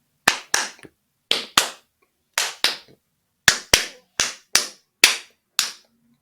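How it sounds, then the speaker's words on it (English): A small group claps in sharp, separate bursts of two or three quick claps, each followed by a pause, loud and close in an otherwise silent room. "clap them all out of our space"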